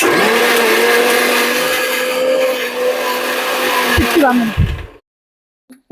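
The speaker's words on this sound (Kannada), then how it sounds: "ಸ್ವಲ್ಪ ನುಣ್ಣಗಾಗ್ಲಿ ಅಂದ್ಬಿಟ್ಟು ಒಂಚೂರು ನೀರ್ ಮಿಕ್ಸ್ ಮಾಡ್ಕೊಂತಾ ಇದ್ದೀನಿ." A kitchen mixer grinds thick paste with a little water added, a loud steady whine running for about four and a half seconds before it winds down and stops, followed by near silence and a faint knock.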